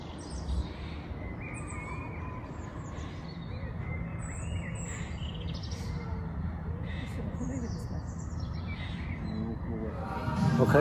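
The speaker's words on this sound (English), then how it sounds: "Listen to the birds singing." Birds chirp and trill intermittently above a low outdoor rumble, with quieter voices murmuring in the background.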